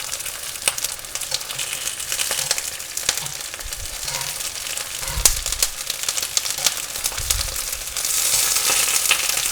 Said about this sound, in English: So while the courgette is sizzling away nicely